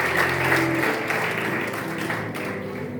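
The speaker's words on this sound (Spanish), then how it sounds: "Dale un aplauso fuerte, porque tenemos la autoridad de Cristo." A church congregation claps loudly during a Spanish-language sermon, a dense, continuous wash of applause with a faint voice underneath.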